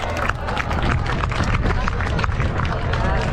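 A crowd at a firefighters' festival claps and cheers loudly and continuously for a firefighter, a dense wash of applause and voices close by throughout.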